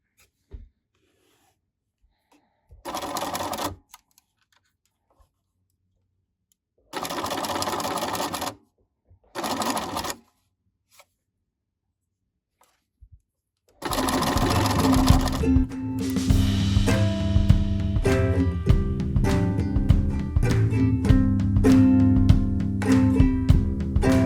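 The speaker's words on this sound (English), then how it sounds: "I'm going to sew right through the felt circle onto the twill tape." A sewing machine stitches through felt circles onto twill tape, starting after a few short bursts of rustling and running in a close, steady mechanical whir with rapid needle ticking to the end.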